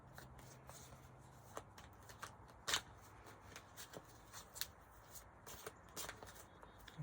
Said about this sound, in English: I feel like I need to do one more riffle shuffle